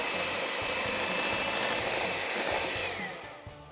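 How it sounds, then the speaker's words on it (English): Electric mixer whipping egg whites as sugar is slowly added for corn cupcakes: a steady, fairly loud motor whir that holds evenly, then tapers off near the end, with no voices. "you're just gonna slowly add your sugar and keep mixing"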